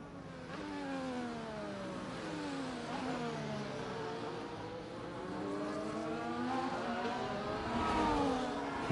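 An F1 car in a racing video game at the Qatar GP, part of an online league race, whines steadily and fairly faintly as the engine pitch rises and falls through gear changes on the straight.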